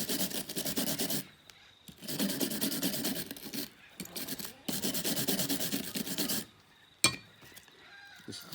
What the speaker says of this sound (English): And all the faces I'm going to clean with a wire brush.